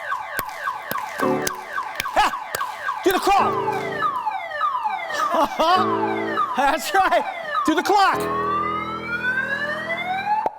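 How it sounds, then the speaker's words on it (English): A common car alarm cycling through its patterns: sweeping wails, rapid chirps and steady tones, loud and close, with someone speaking over it. "So next time you hear the common car alarm,"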